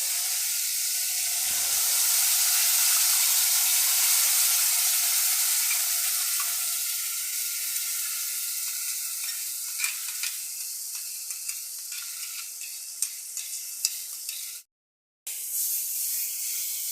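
Spice paste for a mango rohu fish curry sizzles loudly in hot oil, a strong steam-like hiss that gradually eases into crackling pops and stirring scrapes, then a brief silence before the frying resumes.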